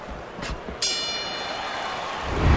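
A boxing bell rings a single sharp, ringing ding to end the sixth round of the Michael Moorer versus Randall 'Tex' Cobb fight, its metallic tone sustaining over a low arena murmur.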